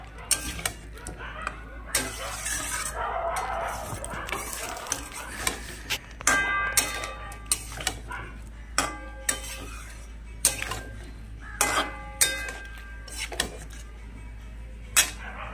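Fish curry of cut rohu-type pieces with broccoli being sautéed and stirred in a pan, with repeated clinking scrapes of a utensil against the metal and a soft background hum, mostly without talk.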